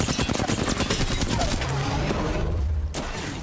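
Video game gunfire rattles as heavy rapid bursts that overlap into a loud, constant barrage, then thin out and drop off near the end.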